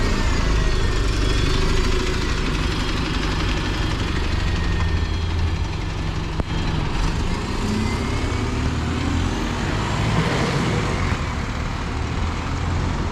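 An MMC single-deck bus, formerly with Cardiff Bus, sits idling at a bus station in Wilmslow, Cheshire, a steady low diesel rumble that holds close and constant throughout with faint background traffic.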